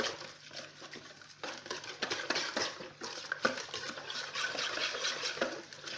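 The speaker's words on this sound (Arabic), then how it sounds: "وهنا نفرغ الكاس تاع السميد، نخلط المكونات هادو نخلطوها مليح" Semolina pizza dough ingredients being stirred and mixed in a bowl, with steady scraping and soft patting rhythms close up, moderately quiet and without talk.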